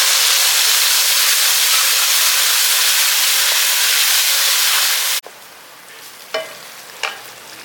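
Tomato juice poured into a hot pan of sautéed ingredients for a tamarind-style curry, giving a loud, steady, bright sizzle that cuts off abruptly, followed by two faint clinks.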